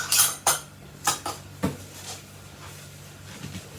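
Metal canning jar lid and screw band being put on and twisted onto a glass jar of apple pie filling in a kitchen, a few sharp clinks and scrapes early, then quieter rubbing, close and alone.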